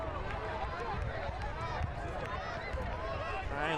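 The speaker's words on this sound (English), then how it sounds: "Crowd getting extra raucous." A soccer stadium crowd at an FC Tucson versus Greenville Triumph SC match roars in a continuous, dense wash of cheering and chanting under a commentator's voice.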